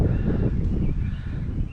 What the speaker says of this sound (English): Oh, that wind feels good.